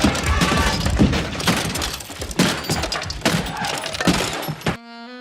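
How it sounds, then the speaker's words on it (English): Boombox being smashed in Do the Right Thing, a run of heavy thuds, cracks and breaking impacts in quick succession, ending in a short sustained electronic tone. "Sal smashing the boombox"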